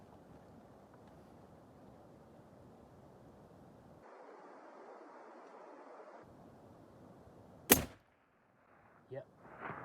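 A single rifle shot rings out while hunting a bull tahr in New Zealand's Landsborough Valley, a sharp crack followed by silence after steady wind noise, with faint thuds afterward.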